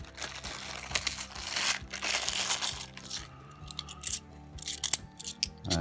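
Handfuls of 50p coins clink, scrape and drop onto a surface in a rare coin hunt, a dense run of metallic jingles in bursts, loudest in the opening seconds and again near the end, with no talking.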